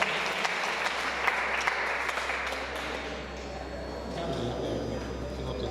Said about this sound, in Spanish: Aplauso porque el carro ya está allá afuera.